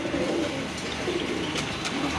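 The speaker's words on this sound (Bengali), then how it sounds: "এক জোড়া বোম্বাই কবুতর দেখতে পাচ্ছেন" A pair of red Bombay pigeons coo softly amid steady ambient noise, with low murmuring calls repeating over a continuous background and no speech.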